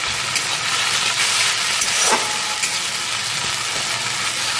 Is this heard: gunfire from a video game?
no